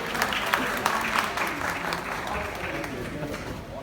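Audience applause at a Tamil music tribute event honouring actor Sivaji, steady crowd clapping filling the hall with some voices mixed in.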